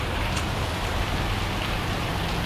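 Heavy rain pours steadily on Koh Tao, Thailand, during the rainy season, a dense, loud, unbroken hiss with no talk throughout.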